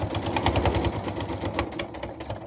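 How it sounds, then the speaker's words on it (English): A sewing machine back stitching a fabric mask runs in a steady, fast rattling whir, close and continuous with slight variations in pace, with no talk over it. "we're going to do a little back stitch, and then we're going to speed sew"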